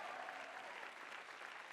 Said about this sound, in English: Let's give another round of applause for Mario G, please.